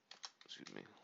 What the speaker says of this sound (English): I'm going to type in vertical,